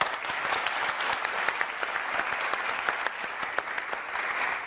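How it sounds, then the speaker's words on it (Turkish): A studio audience on a New Year's edition of a TV word game show breaks into loud, sustained applause, a dense even patter of many hands clapping with no voices over it. "alkış."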